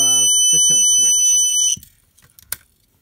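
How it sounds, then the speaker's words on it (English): A Snap Circuits horn blares a loud, steady electronic alarm tone when the tilt switch is tilted, then cuts off abruptly, followed by a quiet voice and a few clicks. "The horn sounds when I tilt the circuit this way."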